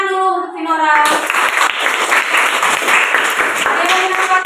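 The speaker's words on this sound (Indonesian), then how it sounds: "tepuk tangan dulu untuk Pinora." A classroom group claps for a student during a teachers' mentoring session: a burst of dense, moderately loud clapping follows a moment of speech and continues for a few seconds before voices return.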